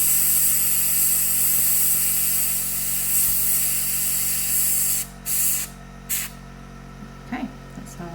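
An airbrush sprays paint close onto nail art, a steady loud airy hiss that cuts out abruptly and then resumes in a few short bursts, with faint handling noises.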